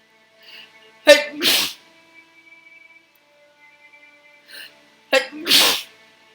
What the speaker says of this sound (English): these days I get sneezing way too easily